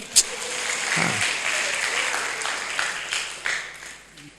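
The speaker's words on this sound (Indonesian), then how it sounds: "Kita beri tepuk tangan dulu." A church congregation bursts into applause at a worship service, a dense wash of clapping close by that swells and holds for several seconds.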